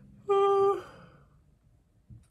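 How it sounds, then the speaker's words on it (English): A person yawns once, a short tonal drawn-out breath with a breathy tail, alone and close, followed by quiet room noise. "I'm gonna yawn."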